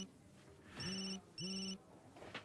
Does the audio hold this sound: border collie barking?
no